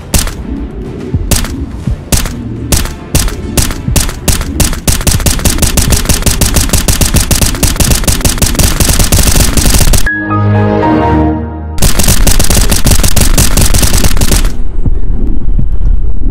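Gunfire in the John Wick VR video game: loud sharp shots, first spaced single bangs, then rapid-fire bursts, a short pause with a clatter, then another rapid burst.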